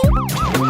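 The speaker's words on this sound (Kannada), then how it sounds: "ಸೈರನ್ ಕೂಗುತ್ತ ಆಂಬ್ಯುಲೆನ್ಸ್ ಆಸ್ಪತ್ರೆ ಕಡೆಗೆ ಸಾಗುತ್ತಿದೆ" An ambulance siren wails on its way toward a hospital, its rising and falling tone repeating in quick swoops, loud and close with no voices.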